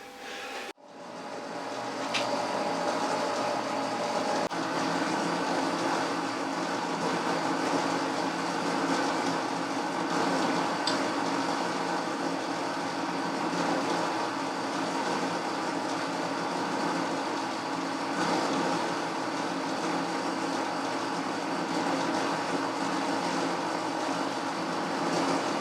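A metal lathe cutting a 3.5mm pitch metric thread produces a steady, loud, close mechanical drone with a faint tonal whine that runs unbroken for the whole stretch, with no talking.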